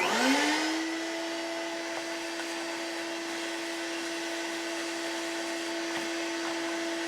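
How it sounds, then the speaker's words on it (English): A vacuum cleaner spins up with a rising whine, then runs with a steady, loud droning hum and occasional rattling of sawdust being sucked in. "use the vacuum to clean up some of this sawdust that was created"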